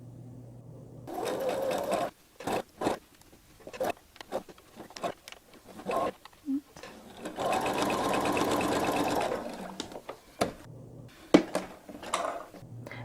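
A sewing machine stitches fabric for a pillowcase made from curvilinear striped quilt pieces, running in short and long bursts with brief pauses as the fabric is guided, close and clear with no talk.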